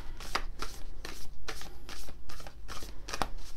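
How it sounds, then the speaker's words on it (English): Stiff cardboard Sufi Tarot deck being shuffled by hand, a close run of roughly eight crisp papery bursts at an uneven rhythm, with no speech over it. "And this one is more cardboardy, a little bit difficult to shuffle."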